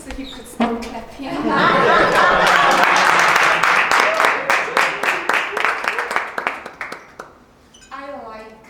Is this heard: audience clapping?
yes